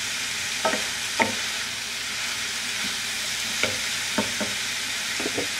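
Spaghetti squash with vegetables frying in a pan, a constant close sizzle with occasional soft knocks and scrapes from a stirring spoon, no talking.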